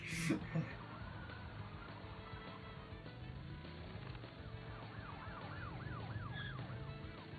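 A police car siren wails in the video game Crash Bandicoot N.Sane Trilogy, faint and warbling in the second half beneath a low bed of game sound.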